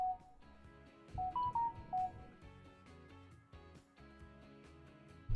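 A short series of electronic phone alert tones rising and stepping in pitch, a smartphone notification going off over steady background game music during a Transport Fever gaming session.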